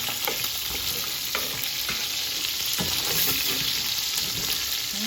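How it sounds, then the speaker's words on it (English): Ground meat, lightly rolled into pieces for spaghetti meat sauce, sizzles and browns in a hot pan, a steady close frying hiss broken by scattered pops and occasional scraping stirs, with no voices. "Okay, so these are browning really nice."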